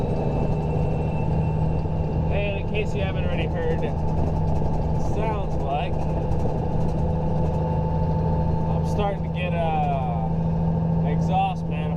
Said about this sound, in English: exhaust manifold gasket starting to go bad